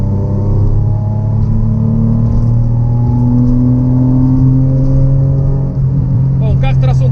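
A Toyota Supra's 2JZ-GE engine idles steadily up close, a loud continuous low rumble that stays even throughout, with a brief voice near the end.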